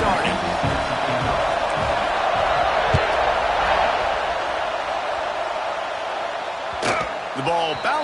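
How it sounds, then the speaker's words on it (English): Big football stadium crowd roaring steadily at an Auburn kickoff, a loud, sustained wall of cheering and whooping with a couple of sharp thuds near the end and an announcer speaking over it. "This crowd bringing an ear-splitting welcome to their visitors."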